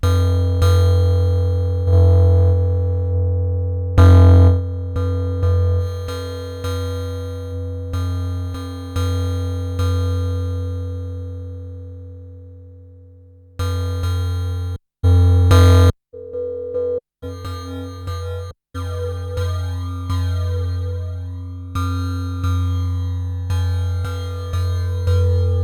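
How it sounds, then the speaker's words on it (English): Metallic cymbal-like tones from a Yamaha Reface DX FM synthesizer with distortion and a subtle flanger effect, struck repeatedly in a steady pattern of decaying hits, loud and alone, with a pause midway and faster hits after it. "A right cymbal sound on an FM synthesizer"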